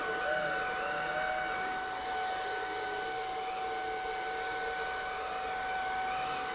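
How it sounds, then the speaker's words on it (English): A Shark pet vacuum cleaner runs on carpet at its max setting, giving a steady, droning motor whine with a constant airy rush, even and unbroken. "I will be using the carpet setting on this vacuum"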